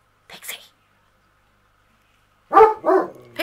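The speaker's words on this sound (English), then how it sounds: "dog." A dog barks indoors during a home crafting session, with a couple of short sharp bursts early on and a louder cluster of barks near the end, separated by silence.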